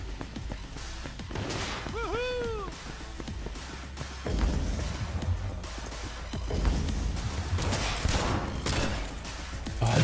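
Gunfire and explosive impacts ring out in the video game Cyberpunk 2077 as bursts of shots and crashes recur over a rumbling game soundscape, with a player's voice occasionally heard.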